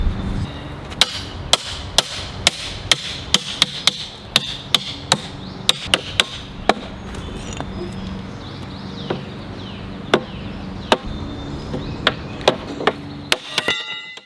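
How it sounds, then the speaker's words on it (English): A cooper drives iron hoops down onto an oak barrel with sharp, ringing hammer blows, struck in a steady rhythm of roughly one per second over a low workshop hum, with a quick flurry of strikes at the end. "the cooper drives full force into every hammer blow, forcing the iron hoops deeper down."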